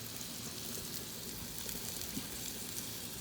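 Pancake batter sizzling on a Blackstone griddle, a steady, even hiss of frying from nearby with no pauses and no voices.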